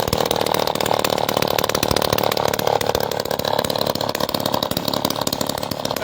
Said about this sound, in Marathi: पंप आता एकाच दोरीत आता चालू झालेला आहे